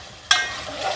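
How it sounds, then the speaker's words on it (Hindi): Meat browning in ghee for bhindi gosht, a sudden loud sizzle as a stir disturbs the pan, then a steady frying hiss that fades slightly, close and brief. "ये हमारा गोश्त भुनता जा रहा है"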